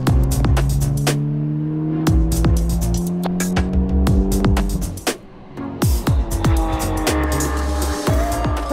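A Porsche race car at an Ultimate Cup Series round on the Var circuit, its loud engine droning and revving through gear changes, close and dominant with no talk.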